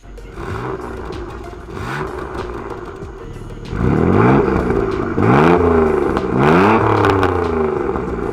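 A Mitsubishi 3000GT with active exhaust revs loudly several times, its engine note climbing and falling in repeated sweeps, growing louder and fuller in the second half as the exhaust opens up, with no talking.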